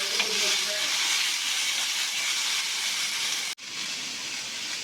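Radish, garlic and tomato sautéing in a pan, a steady broad hissing sizzle heard close, briefly dropping out before resuming at the same level.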